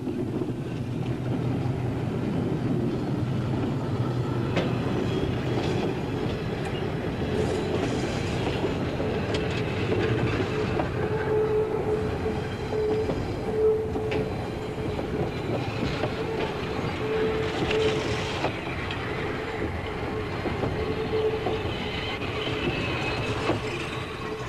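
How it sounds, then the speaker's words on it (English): A train rolls slowly across a curved trestle, its wheels giving a steady heavy rumble with clicking over rail joints and intermittent high squeals from the wheels on the curve, continuous throughout. "Our train slows down for an excellent view."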